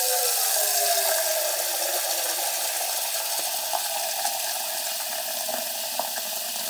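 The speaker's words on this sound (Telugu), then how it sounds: "వంకాయ ముక్కలు వేయటానికి కొంచెం నీళ్లు పట్టుకుందాం." Water pours from a tap into a vessel in a home kitchen, a steady close rush whose tone rises as the vessel fills, with a few small clinks.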